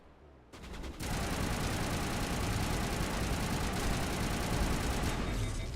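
Striker shotgun fire in Mass Effect comes as a loud, dense roar of rapid blasts that starts suddenly and holds steady for several seconds, close and continuous with no talking.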